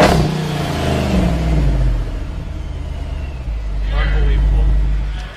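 A supercharged Jeep Grand Cherokee SRT8 with a Corsa exhaust and 4-inch rear tip revs loudly and deeply, the rumble rising and falling in two surges while someone speaks over it.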